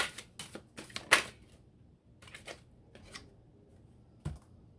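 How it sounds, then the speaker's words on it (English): Soft riffling and snapping of tarot cards being shuffled in quick bursts, close but quiet, with pauses between handfuls. "I don't know if I'm gonna keep shuffling, actually."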